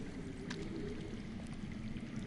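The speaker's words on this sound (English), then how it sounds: "That's water. I hear water." Running water heard from underground in a Game of Thrones game scene, a faint, steady pouring and trickling wash that continues throughout without any voices.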